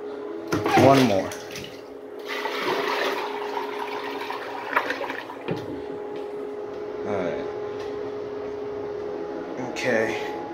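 A miniature 1989 Kohler Highcliff toilet takes a bucket flush with a weak siphon: a loud splash of poured water, then a steady rushing and gurgling drain that runs on for several seconds, with brief bursts of sound and no voices.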